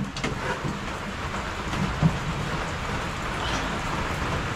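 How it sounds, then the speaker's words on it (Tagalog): Steady rain falls outdoors, a continuous soft hiss of drops with a few faint thumps, even in level throughout. "Umulan na naman, Penggay."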